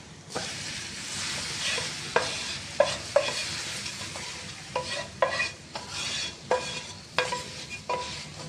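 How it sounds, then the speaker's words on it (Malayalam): A spoon stirs an onion pickle mixture in a pan over low heat, giving rhythmic scraping strokes over a constant bright sizzle, near and clear with no speech. "ഒന്ന് ഇളക്കിയെടുക്കാം."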